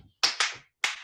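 Three sharp hand claps in a church-style rhythm: a quick pair, a short pause, then a third. They are close and crisp, with no voices.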